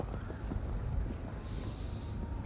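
Irish-bred horse galloping at Badminton Horse Trials show jumping, a faint, steady drumming of hooves on turf under a broad crowd and outdoor ambience, with a brief higher hiss midway.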